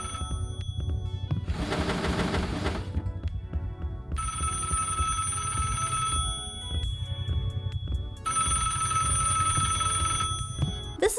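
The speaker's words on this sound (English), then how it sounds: "When you pick it up, a phone begins ringing, and you've got to find it." An old-fashioned telephone bell in a Roblox horror game rings in two long bursts, loud and close, over a low steady background hum.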